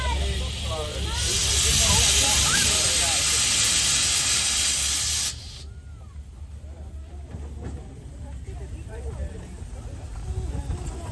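Steam car at a car meet releasing a loud, sustained hiss of steam for several seconds, which cuts off abruptly, leaving quieter outdoor bustle with people talking nearby.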